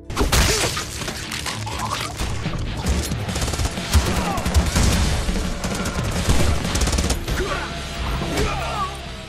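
Dense gunfire rings out in an action-film fight scene, as Susan fires wildly in every direction and hits an aquarium. Rapid shots, crashes and shattering glass stack together in a loud, continuous barrage.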